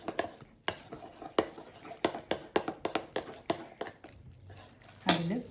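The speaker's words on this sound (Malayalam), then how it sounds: "എന്നിട്ടതൊന്ന് മിക്സ് ചെയ്ത് കൊടുക്കാം." A spoon clinks and scrapes against a bowl while mango and passion fruit are mixed for a fool dessert, sharp irregular taps repeating through the stir, close and clear with no talking.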